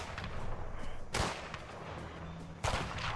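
Gunfire in the A Way Out co-op video game: two sharp loud shots about a second and a half apart over a busy game background, no talk.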